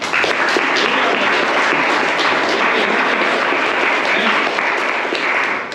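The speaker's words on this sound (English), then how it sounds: "A big round of applause for yourselves." Applause from a large audience at an engineering department orientation talk: loud, dense, continuous clapping that fills the room evenly for almost six seconds without a break.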